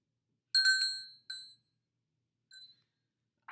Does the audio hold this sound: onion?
no